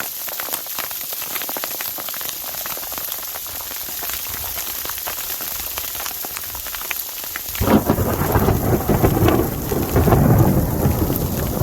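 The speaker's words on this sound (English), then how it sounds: "Lightning, thunder." A heavy mountain thunderstorm in the Sierra Nevada: steady pouring rain with deep rolling thunder that swells louder in the second half, no voices.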